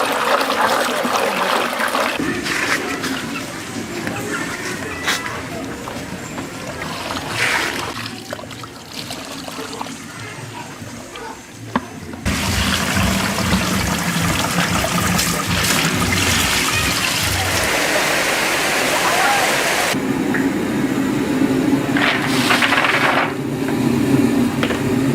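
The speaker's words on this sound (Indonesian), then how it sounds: "Kacang kemudian dibilas hingga bersih sebelum direbus." Water runs and splashes steadily as peanuts are rinsed clean before boiling, a continuous trickling and pouring wash that shifts in intensity partway through, with no talk.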